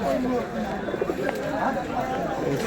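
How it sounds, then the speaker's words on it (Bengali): Pigeons coo faintly at a busy pigeon market, their soft calls mostly buried under close, continuous chatter from people. "আপনাদেরকে একটা ফুলশিরা পায়রা শখ করানো হচ্ছে, ফুলশিরা কালশিরা"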